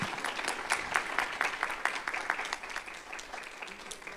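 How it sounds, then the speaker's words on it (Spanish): An audience at a book-fair literary event applauds a guest poet, a fairly faint, even wash of clapping from a crowd heard at some distance in the hall, fading slightly toward the end. "Un aplauso,"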